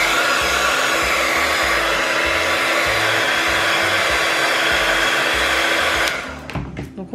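A heat gun blows on alcohol ink, a loud, steady, close roar of rushing air that holds for about six seconds before it cuts off and a few soft handling noises follow.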